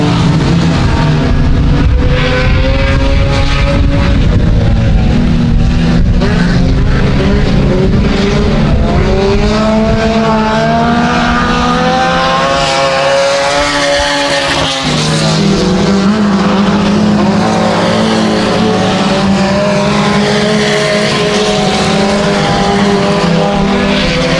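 Mini stock race cars roar around the dirt track at Genesee during a heat race, loud and continuous, with engine pitch rising and falling as cars pass and accelerate.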